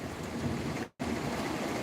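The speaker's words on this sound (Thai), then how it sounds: "ที่นี่ฝนตก น่าจะสสี่ิบกว่านาทีแล้วนะครับผม ก็หนักพอสมควรนะครับ" Heavy rain driven by strong wind makes a dense, steady roar that stays loud and close, cutting out briefly for a moment near the middle before returning.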